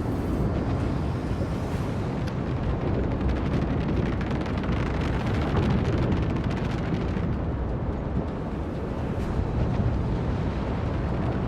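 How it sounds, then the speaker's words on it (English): Macro cannon volley explosions from a warship battle in Warhammer 40000: Rogue Trader make a dense, continuous roaring blast wash, loud and broadband, rumbling steadily with no clear gaps and no voices. "Macro cannon! Volley!"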